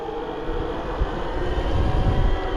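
A 72V BBS02 mid-drive e-bike motor gives off a strange, continuous rumbling drone that swells slightly, heard close while riding on a bike path.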